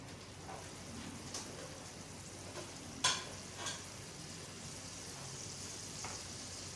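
Onion paste frying in oil gives a faint, steady sizzle with a few soft stirring knocks and scrapes, heard close with no voices.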